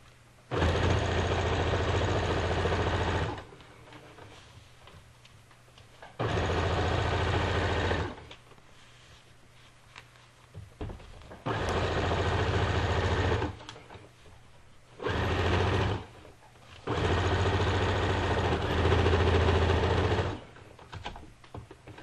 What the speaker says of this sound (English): so when you sew it, you want to pull it out.